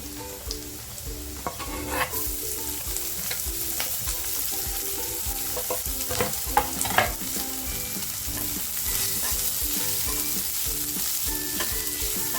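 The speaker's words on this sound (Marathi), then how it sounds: "बारीक कापला होता कांदा मी तो आता टाकते" Finely chopped onion tipped into a hot pan sizzles steadily while a spoon stirs and scrapes, a close continuous frying hiss with occasional clatters and no talk.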